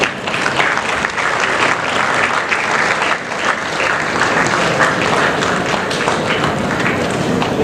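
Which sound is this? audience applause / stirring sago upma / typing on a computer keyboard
audience applause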